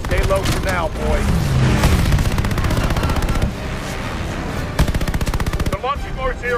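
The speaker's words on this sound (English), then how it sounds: "Can't ascend without those AA guns taking us out." Heavy anti-aircraft gunfire in Call of Duty Vanguard during a Battle of Midway plane mission: loud, rapid machine-gun bursts and booms layered throughout, with brief voices and whistling sounds mixed in.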